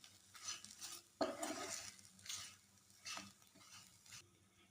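A spoon stirs turmeric into a pan of cauliflower masala curry, producing faint close scraping and clinking strokes with a soft sizzle underneath.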